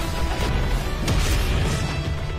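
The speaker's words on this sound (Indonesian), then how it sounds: "Langsung dia melancarkan satu tebasan dewanya dan keluar. Seisi gunung auto hancur" Animated sound effect of a divine sword slash shattering a mountain: a dense, rumbling crash with a sharp burst near the middle, loud and continuous throughout, with no talking.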